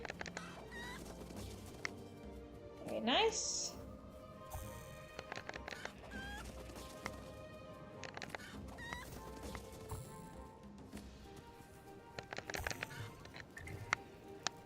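A chicken clucks in a How to Train Your Dragon video game, a short burst of clucking rising briefly over busy game sounds and clatter. A player speaks a few words.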